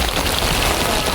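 Rain falling steadily on a corrugated sheet-metal roof of a house during the first rain of the season, a dense continuous patter with no break.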